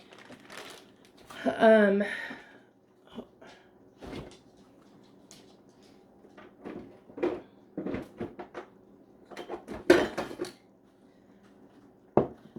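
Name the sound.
adding frozen vegetables into the PC Quick Cooker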